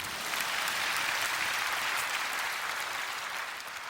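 Sustained audience applause from a church congregation during a sermon, a dense steady clapping that holds at full strength for about four seconds before easing slightly at the end.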